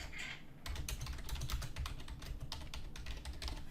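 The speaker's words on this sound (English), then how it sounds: "and I can type." Fingers typing on a computer keyboard, a fast run of crisp, close key clicks that starts after a brief pause and carries on steadily to the end.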